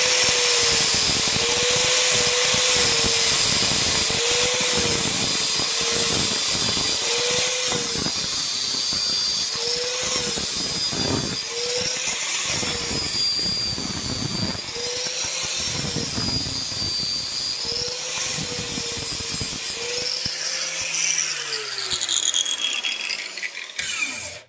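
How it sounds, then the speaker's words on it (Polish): An angle grinder whines steadily as it cuts the rivets on a Bizon combine alternator bearing, its pitch dipping and rising with load and bursts of grinding rasp, ending as the tool spins down. "Dobra, odpalam szlifierkę."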